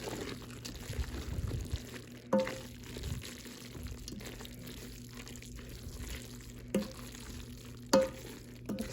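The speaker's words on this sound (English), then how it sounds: "Just going to mix this up." Ham stroganoff stirred in a Ninja Foodi Deluxe pot after pressure cooking: a soft, steady wet churning with a few sharper scrapes or knocks against the pot, close and fairly quiet, with no talking.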